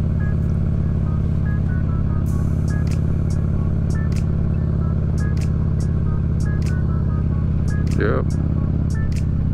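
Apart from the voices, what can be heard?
motorbikes riding on a foothills trail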